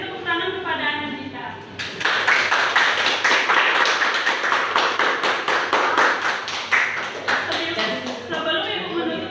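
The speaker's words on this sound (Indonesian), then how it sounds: "Beri tepuk tangan kepada Anandita." Classroom applause for a student, a burst of dense rapid clapping from a group of pupils. A voice is heard briefly before the clapping, and speech resumes as it fades.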